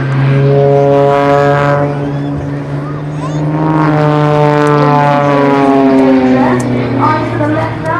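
A propeller aerobatic display aircraft drones loudly overhead during an air show roll, its engine note gliding slowly up and down in pitch. A commentator talks over it.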